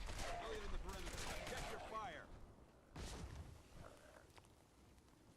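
A bolt action rifle fires from the hip in Fallout 4 amid a burst of rapid gunfire and booms, which fade and then return with a second flurry while someone talks over the shooting.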